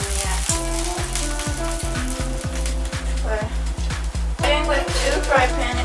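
Okonomiyaki with meat fries in a pan, giving a steady close sizzle and crackle with scraping stirs, while a person talks over it.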